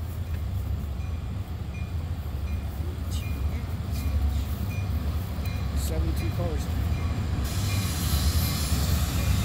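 CSX freight train Q452 rolls past close by with a loud, continuous rumble of railcars and wheels and faint squeals, with people talking under the noise.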